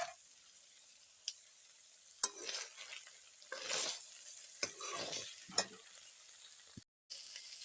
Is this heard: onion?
yes